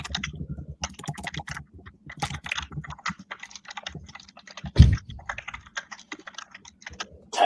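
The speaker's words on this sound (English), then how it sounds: "Typing away." Computer keyboard typing, quick bursts of close light key clicks with short pauses and one louder thump, no talking.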